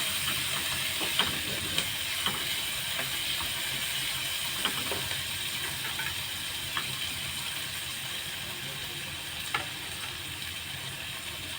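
Chana dal and wild greens (bharangi) steaming in a covered pan, giving a steady soft hiss and sizzle with occasional faint clicks and pops, moderately quiet and continuous throughout, with no talking.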